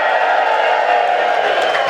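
A live studio audience at an RV show taping cheers and whoops steadily. The loud, dense crowd roar holds evenly for the whole moment.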